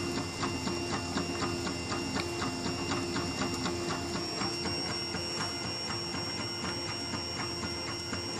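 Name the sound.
Printrbot Simple Metal 3D printer printing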